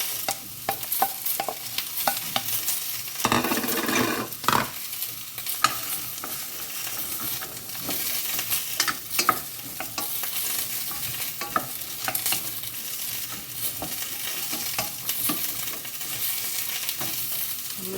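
Sausages and carrots fry and are stirred in a pan for a sausage and bean casserole, with a steady close sizzle and repeated scraping strokes running throughout, no voices.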